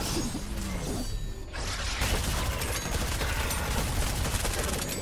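Rapid SMG gunfire in a Fortnite horde rush match, dense sustained bursts with crashing impacts, loud throughout, starting after a brief lull with faint game noise.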